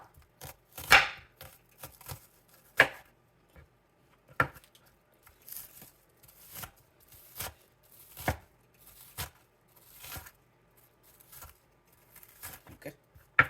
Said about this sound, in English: Chopping the onion, half of a big onion to put in there.